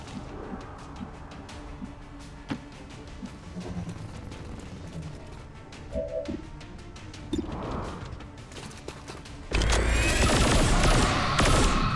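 Gunfire in XCOM 2, a run of sharp cracking shots and impacts through the first part, then a sudden loud, sustained crashing burst near the end.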